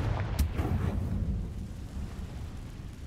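The Confringo fire spell in Hogwarts Legacy: a booming, rumbling blast with a sharp crack near the start that settles into a low roar fading over a few seconds.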